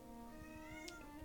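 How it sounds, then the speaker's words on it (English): A cat meows once, faint and brief, over a steady background of soft music. "why are you meowing?"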